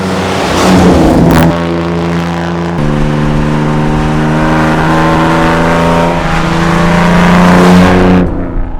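An Aston Martin DB4GT with its original matching-numbers engine revs loudly up close, a deep steady drone that climbs and holds through several throttle blips before cutting off.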